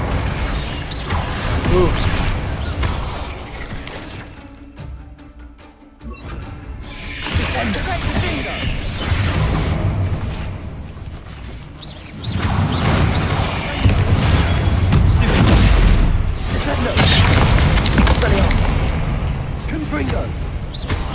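Bombarda spell explosions in the Hogwarts Legacy video game: heavy, booming blasts roll out in waves, with a short lull midway before louder rumbling returns, while a voice exclaims over the action.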